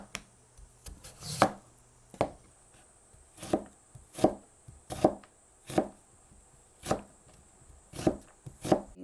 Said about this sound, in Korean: 무는 그냥 깨끗하게 이제 해가지고 채를 잘 썰어야죠